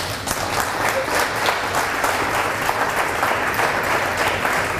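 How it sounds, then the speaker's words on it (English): Sustained applause from a ceremony audience fills a room, dense overlapping claps at an even, fairly loud level throughout. "Let's give them a round of applause."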